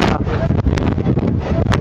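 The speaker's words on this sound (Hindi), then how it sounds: "हल्की हल्की बूंदाबांदी, साथ में तेज़ हवाएं, बिजली कड़क रही है" Strong wind in Solan during a storm with light drizzle and lightning buffets the microphone in a loud, continuous roar with gusty surges, and a muffled voice is faintly audible beneath it.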